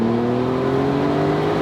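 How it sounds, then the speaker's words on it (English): Porsche 991.2 Carrera Cabrio turbocharged engine under full throttle, a loud, continuous rising drone heard from inside the car with no pauses. "Full throttle."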